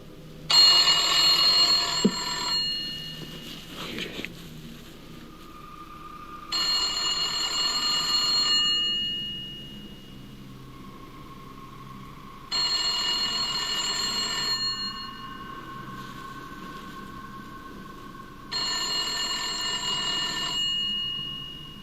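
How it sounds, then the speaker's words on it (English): An old, rusty telephone, decades old, rings in four long metallic bursts a few seconds apart, each jangling bell ring clear and fairly close with a low hum in the gaps. "An old and rusty phone that looks like it dates back multiple decades abruptly begins to ring"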